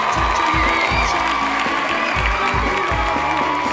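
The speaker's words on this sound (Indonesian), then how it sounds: "Kita beri tepuk tangan yang meriah," Lively applause from an audience at a Dharma Wanita women's association meeting in East Jakarta, a steady broadband clatter lasting the whole stretch over a rhythmic low thumping beat.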